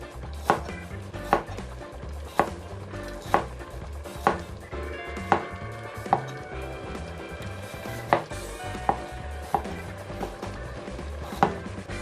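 Knife strokes on a chopping board while root ginger is peeled of its outer skin, a run of sharp, evenly spaced taps close by over a low background hum, with no talking.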